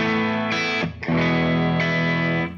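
An overdriven 1981 Ibanez AS100 hollow-body guitar with stock humbuckers plays through an Angle Powerball 2 amp, loud sustained distorted chords with a brief choked break before the next strum rings out.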